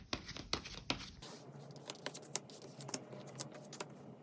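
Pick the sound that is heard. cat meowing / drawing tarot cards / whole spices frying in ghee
drawing tarot cards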